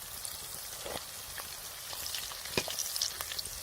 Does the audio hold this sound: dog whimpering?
no